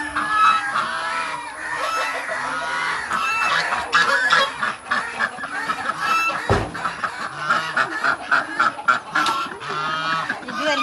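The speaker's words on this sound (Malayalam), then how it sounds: "അതിൽ താറാവുണ്ട്, വിഗോവ താറാവുണ്ട്, പ്ലെയിൻ ഡക്ക് ഉണ്ട്, കൂസ് ഉണ്ട്" Ducks, wigeon, flying ducks and geese kept in a pen, producing dense, overlapping quacks, honks and clucks in irregular bursts at close range for the whole stretch.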